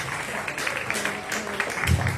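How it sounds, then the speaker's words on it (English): Applause from a hackathon audience after a team's presentation at a health jam, a steady dense patter of many hands, moderately loud, with some voices mixed in. "A round of applause."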